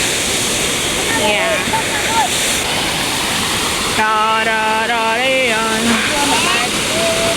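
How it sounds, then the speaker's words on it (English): A small waterfall pours into a river flowing below, giving a steady broadband rush of water throughout, with people talking over it. "Not a big waterfall, but it's so good. And there's a river that is flowing below it."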